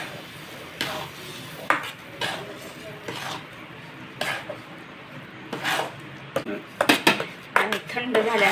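A spoon scrapes and clatters against a pan while mango ladoo mixture is stirred, in irregular bursts that grow busier and sharper toward the end, with low background noise between strokes.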